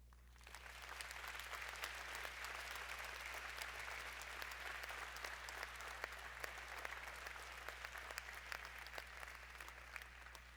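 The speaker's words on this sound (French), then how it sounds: "Et je vous demande de bien vouloir l'applaudir" An audience at a town's New Year's greetings ceremony in Cavalaire applauds a poet, a steady, dense wash of many hands clapping from a distance, faint, over a low electrical hum.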